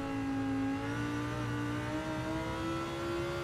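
A race car in Gran Turismo 7 accelerates hard, its engine whine climbing steadily in pitch in a loud, continuous rising drone with no talk over it.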